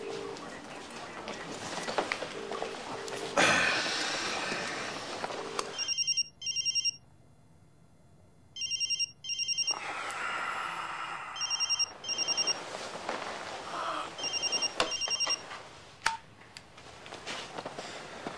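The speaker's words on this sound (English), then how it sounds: "Because you are ringing Tika." A telephone rings in repeated electronic bursts with short pauses between them, clear and fairly close, over a faint background hum.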